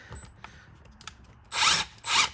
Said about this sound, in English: undo the hose clamp